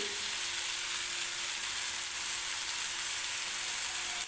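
Coconut and garlic paste frying in a pan with a little turmeric added, giving a steady, even sizzle that stays close and constant throughout, with no voices.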